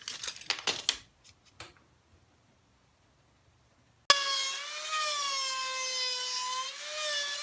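A few light taps and clicks fade into silence, then a power tool abruptly starts cutting Radiata pine plywood cabinet panel cutouts with a loud, sustained, slightly wavering whine.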